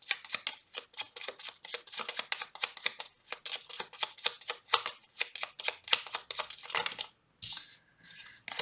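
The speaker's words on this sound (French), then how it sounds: "Je vais tirer encore une carte." Tarot cards being shuffled and drawn: a quick, steady run of soft crisp riffling and snapping, close and fairly quiet, ending with a few separate slides of a card being pulled, with no talking.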